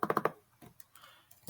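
Quick keystrokes on a computer keyboard, a burst of four close, crisp clicks followed by a few sparser, fainter taps in an otherwise quiet room.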